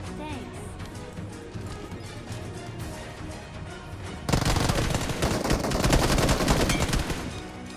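Rapid gunfire crackles in a mobile battle royale game, steady bursts from several weapons growing suddenly louder and denser halfway through, with near shots layered over more distant exchanges.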